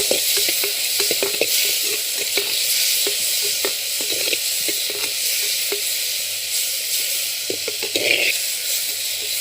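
Tomato and other ingredients for mudakathan (balloon vine) herbal rasam sautéing in a pan, a loud continuous sizzle and hiss with scattered soft crackles and occasional stirring scrapes, no speech.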